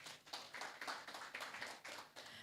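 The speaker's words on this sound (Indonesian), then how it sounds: "Tepuk tangan." An audience at a national health-services workshop in Semarang applauds: dense, even clapping from a crowded room, steady and fairly distant, with no voices over it.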